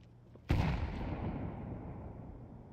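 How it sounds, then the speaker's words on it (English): A grenade in Counter-Strike 2 detonates with a single loud, sharp blast, followed by a long rumbling decay that fades over a couple of seconds. "Grenade out. Throwing a grenade."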